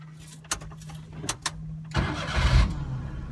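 A car engine is cranked a few times in short bursts. It then catches and fires up into a rough, rising rev, heard fairly close and moderately loud, with no talking.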